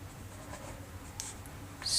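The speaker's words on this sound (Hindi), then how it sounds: "तो लिखेंगे समीकरण" Pen scratching as an equation is written by hand, faint quick strokes and small taps close by against low room hiss, ending in a slightly louder scrape.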